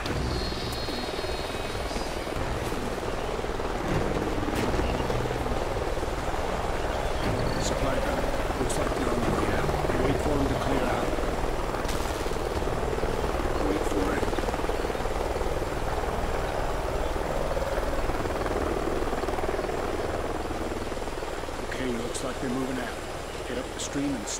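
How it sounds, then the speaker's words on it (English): Military helicopter rotor thumping steadily somewhere ahead in a canyon during Call of Duty Ghosts gameplay, a loud continuous whir that runs the full length of the clip with voices talking over it. "Sounds like a chopper's up ahead of us."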